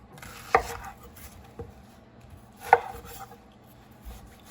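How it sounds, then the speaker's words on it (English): Kitchen knife chopping an onion on a cutting board, two sharp distinct chops a couple of seconds apart with faint board knocks and quiet handling in between, close and unvoiced. "I'm gonna chop up this entire onion"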